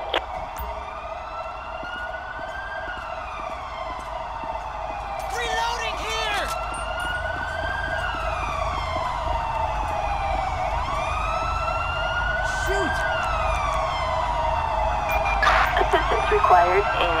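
An ambulance siren from the video game GTA V with the LSPDFR police mod wails in rising and falling sweeps, loud and continuous, over engine rumble, with short electronic chirps and horn blasts.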